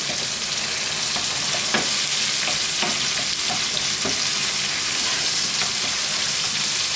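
Peeled shrimp sizzle in a frying pan with a steady crackling hiss, while a utensil stirs and taps against the pan in scattered clicks, close and alone.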